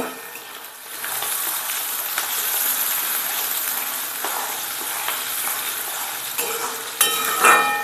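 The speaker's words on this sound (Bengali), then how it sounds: "পেঁয়াজগুলো আমি একটু এখন ভালোভাবে নাড়িয়ে চাড়িয়ে ভেজে নেব।" Onions frying in oil in a wok (karahi), a steady, close, loud sizzle with scraping stirring strokes throughout, quieter for the first second and then holding even to the end.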